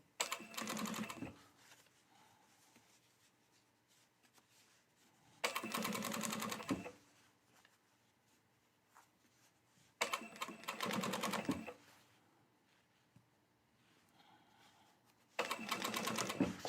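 Sewing machine stitching a collar seam in four loud, fast-running bursts of about two seconds each, separated by quiet pauses with faint handling noise.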